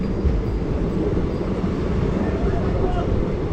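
The Maa Tara Express on the Sealdah–Rampurhat route stands at a station, a steady loud rumble and hum of the train filling the air with no pauses.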